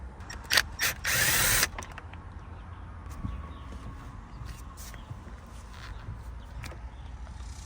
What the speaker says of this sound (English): We got a Phillips down here. I'm going to take it off.